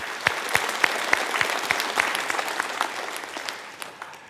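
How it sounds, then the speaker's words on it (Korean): A church congregation at a Sunday service in New Jersey applauds, a steady round of clapping with regular sharp beats over a softer crowd wash. "우리 그 마음으로 박수하겠습니다."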